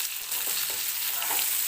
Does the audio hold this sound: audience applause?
no